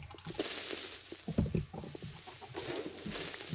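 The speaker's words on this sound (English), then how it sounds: "Oh, there is a chicken." Chicken clucks from a Minecraft-style farming video game, a few soft broken clucks scattered over a busy low game background, moderately close with no talking.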